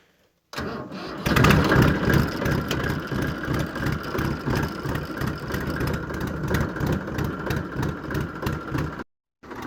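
A farm tractor engine starts and settles into a loud, close, chugging run with a regular low thumping rhythm for several seconds before cutting off abruptly.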